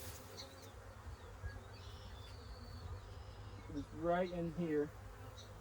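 Honey bees buzzing around an open hive during a colony split, a faint, steady drone under quiet background noise, with someone speaking briefly near the end.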